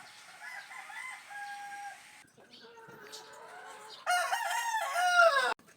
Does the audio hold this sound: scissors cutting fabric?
no